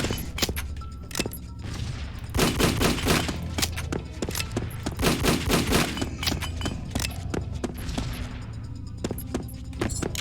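Rapid bursts of chaingun fire from enemy chaingunners in the first-person shooter Doombringer, dense overlapping volleys of loud gunshots with thuds, continuous for several seconds and intensifying midway.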